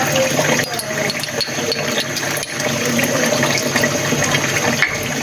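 Water pours steadily into a cooking pot for sweet rice (mutanjan) with added red food colour, a continuous gushing splash with no pauses.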